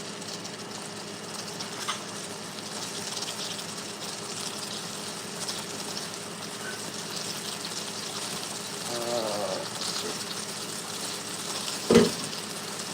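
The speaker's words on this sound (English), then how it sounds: "I'll just spoon over some water, help it kind of thicken up to a nice sauce" Pasta water spooned into a pan of olive-oil pasta sauce sets off a steady, soft sizzle with a brief liquid pour and bubbling surge partway through, then a short clatter near the end.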